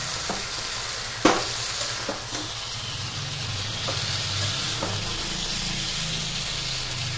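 Marinated chicken with ginger-garlic paste, tomato and turmeric sautéing in a pan: a continuous close sizzle with a sharp clack of the spatula early on and a few lighter scrapes after.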